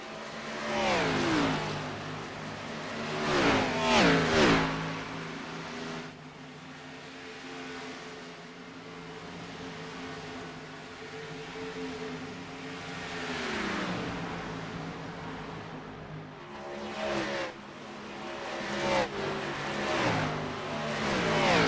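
Stock cars in a Limited Xfinity Series race at Charlotte roar past in repeated waves, engines swelling loud and then fading, with a steady engine drone between the passes and no voices.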